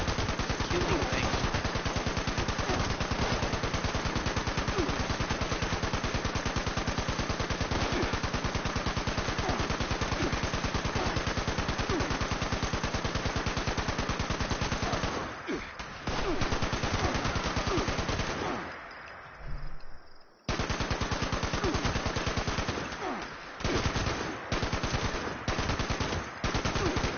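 Rapid automatic gunfire from Fallout 76 rattles on continuously and loudly, breaks off briefly near the end, then resumes in shorter bursts.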